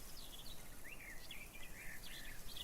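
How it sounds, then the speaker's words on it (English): Quiet outdoor ambience with faint birds chirping and tweeting in short repeated calls, some at a distance, over a low steady background hiss, with no talking. "the only thing that you're going to hear is the sound of rustling leaves and birds"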